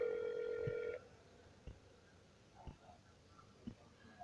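A telephone ringback tone on an outgoing sales cold call, one clear electronic ring near the start, then quiet line noise with faint clicks.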